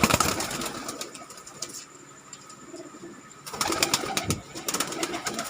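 Pigeons of a breed kept for sale at a pigeon club coo nearby in soft, repeated calls, with some rustling and chirps. The sound fills the clip, quieter in the middle and busier at the start and end.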